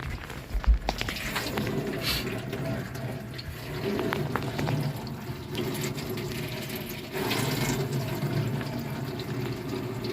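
Water splashes and runs over the body of a Toyota Vios during a leak test, a steady wash with occasional louder bursts and some background noise throughout.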